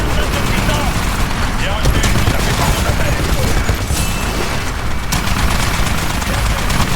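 Sustained turret gunfire in the Titanfall video game, a dense continuous barrage of rapid shots and booms filling the whole stretch at high loudness, with game voice announcements mixed in.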